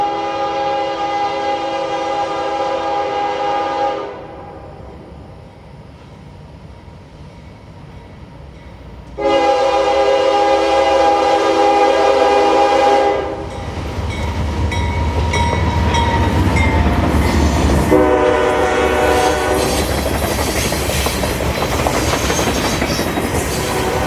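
A loud train horn blows in long blasts as a CSX freight train (the Tropicana juice train) rumbles past nearby on Florida's S-Line, wheels clacking steadily, with the horn sounding again before the end.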